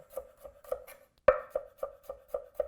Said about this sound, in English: now we cut the garlic